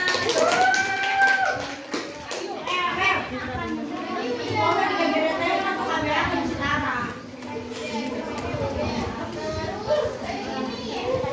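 Schoolchildren clap in a classroom during a poetry lesson, quick sharp claps mixed with lively children's voices and chatter that run throughout, close and fairly loud.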